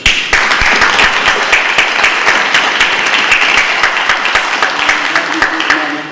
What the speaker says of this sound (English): let's give all of those and Megan Joyce a round of applause.